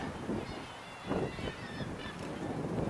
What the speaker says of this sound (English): birds in the distance